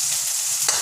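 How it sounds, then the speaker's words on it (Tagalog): Garlic and onion sauté in a pan for humba, a steady broadband sizzle with a brief stir or scrape near the end, close and continuous with no talking. "igigisa na natin bawang at sibuyas"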